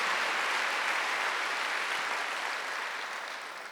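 A church congregation at a Wednesday worship service breaks into steady, dense applause that fills the room and fades slightly toward the end, with no voices over it.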